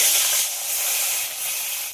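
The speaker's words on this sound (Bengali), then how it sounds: "বাকি মাছগুলোও ভেজে নেব।" Fish pieces frying in hot oil make a brief, steady hissing sizzle up close, swelling slightly and then fading at the end, with no voices.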